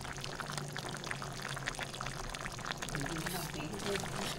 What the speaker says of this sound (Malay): kari dah menggeledak, so kita masukkan rebung